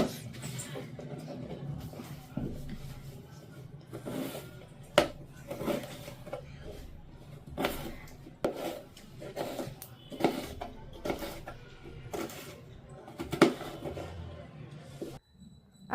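Vegetables chopped into small pieces on a board in a home kitchen, a string of irregular knife taps and clacks with occasional scraping, with a voice talking softly in the background.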